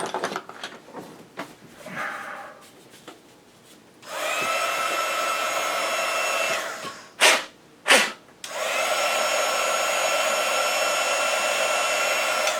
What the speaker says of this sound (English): The idea behind the embossing tool is it's a hairdryer and it dries up the residue, the liquid of the rubbing alcohol.